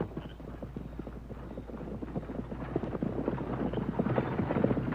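Horses' hooves clip-clop rapidly in a 1939 Western radio drama, a dense run of hard knocking beats that grows gradually louder as the horses approach, with no voices over it.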